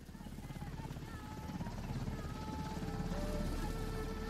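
Black Hawk helicopter hovering overhead in a war film: a dense, steady rotor throb with a buzzing drone, loud and continuous, growing slightly fuller toward the end.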